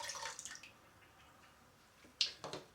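Lemon juice dripping into a ginger beer mixture during home brewing: a few soft, close drips and splashes, with the clearest ones near the end.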